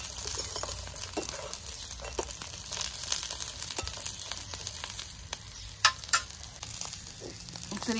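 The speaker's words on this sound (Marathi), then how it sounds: "इथे आपल्याला हे खूप सुद्धा परतून घ्यायचे मसाले 2 मिनिटासाठी फक्त." Spices sauté and are stirred in a pan for a large prawn curry, a continuous close sizzle with scattered spoon scrapes and a couple of sharp clinks.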